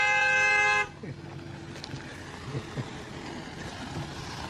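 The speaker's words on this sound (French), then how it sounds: "Vous klaxonnez parce qu'il y a un mariage?" A car horn blares steadily for just under a second, sounded for a wedding. After it cuts off, a faint rumble of outdoor background noise carries on.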